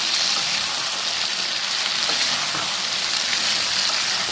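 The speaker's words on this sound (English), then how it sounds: "I have fried garam masala and red chili and" Garam masala, red chili and jeera frying in a pan, giving a steady, close, dense sizzle with a constant crackling hiss throughout and no talking.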